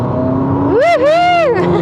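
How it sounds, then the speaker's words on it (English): A Ferrari 296 GTB accelerates hard, its engine note rising sharply in pitch, dipping briefly at a gear change, then climbing again, loud and close for under two seconds. "the acceleration is ridiculous."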